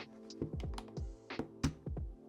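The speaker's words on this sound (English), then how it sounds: "let's see how easy it is to remove a keycap and a switch" A keycap and switch are pulled from a Hall effect magnetic-switch keyboard, producing a quick series of close plastic clicks and taps in an irregular rhythm, with no talking.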